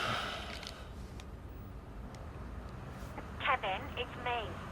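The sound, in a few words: phone beeps as voice message plays on speakerphone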